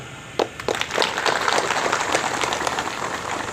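An audience claps together to welcome the provincial agriculture officials at an outdoor farm field day, dense applause that starts abruptly and holds steady throughout.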